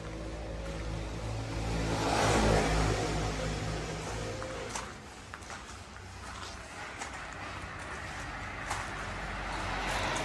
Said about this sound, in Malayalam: ആൾട്ടോ LXi കേട്ടോ വണ്ടി